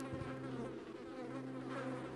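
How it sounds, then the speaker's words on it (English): Bees and flies buzz steadily around a beehive in a cellar in the stealth game Thief Gold, a continuous low droning hum with no speech. "It looks like a beehive, and I hear some bees. Well, some flies."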